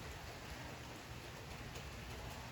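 Rain patters steadily on a car roof, a dense even hiss of drops at close range with no voices.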